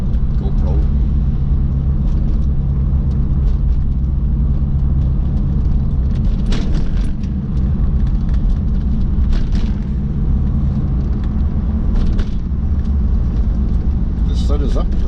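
A 1994 C4 cruises along with a low, steady engine rumble and road drone filling the cabin, a voice talking over it now and then.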